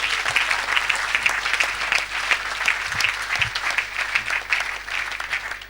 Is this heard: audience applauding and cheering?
yes